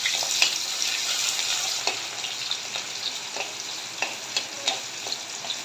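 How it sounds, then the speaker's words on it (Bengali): Chopped onions fry in hot oil with bay leaves, giving a steady, close sizzle broken by soft, regular stirring clicks, with no voices. "এখন পেঁয়াজ কুচি দিয়ে ভাজে নেব"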